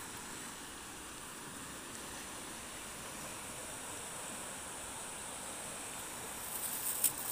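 Steady, broad rushing of a rain-swollen, muddy creek flowing fast, a constant wash of noise with no pauses, heard alone and fairly close.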